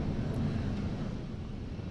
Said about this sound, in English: The Falcon 9 actually throttles itself down as it passes through max Q and then throttles back up once we're through it.